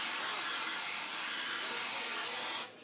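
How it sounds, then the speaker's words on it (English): Cooking oil sprayed from a can into a 9-inch glass pie pan: a steady, close hiss that runs for a few seconds and then cuts off abruptly. "we're going to take our 9-inch glass pie pan and we're going to spray it with"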